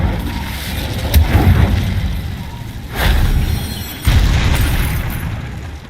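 In Hogwarts Legacy the Incendio fire spell goes off in a series of loud, close, booming whooshes, three heavy bursts a second or two apart.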